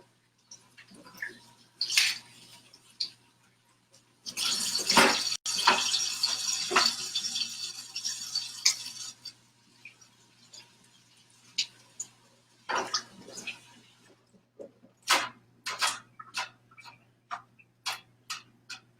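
Watercress is rinsed under a running kitchen tap in a burst of splashing water lasting about five seconds, set among scattered close clicks, taps and drips.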